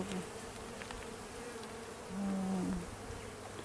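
Honeybees buzz around an open hive during an inspection, a steady close drone that swells briefly louder as a bee passes near.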